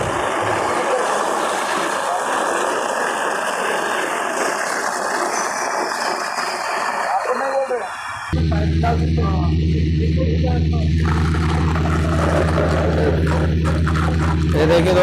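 A sewer suction machine runs loud and steady, first with broadband rushing and rattling, then after about eight seconds settling into a deep droning engine hum with strong low harmonics, continuous throughout.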